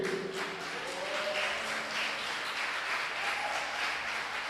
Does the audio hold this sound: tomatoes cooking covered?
no